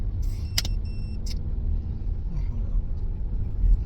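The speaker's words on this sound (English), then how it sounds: "Zion, we about to crash the car in the test drive, my boy." A car on a test drive through city streets produces a steady low interior rumble, with a few brief clicks and light jingles near the start.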